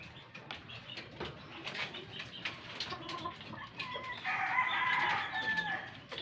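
A backyard Boston Black hen clucking and calling close by, with occasional wing flaps and other fowl sounds, a steady stream of clucks and crowing-like calls with no talk.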